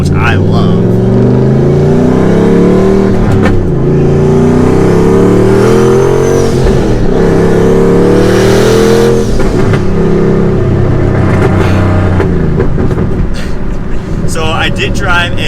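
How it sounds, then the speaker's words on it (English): A turbocharged Ford Mustang V8 revs hard and continuously, its deep, loud, layered engine tone rising and falling through several pulls, with a voice talking over parts of it. "You can still hear the V8 in it, which I love Ford's V8 sound, but you get that turbo spool"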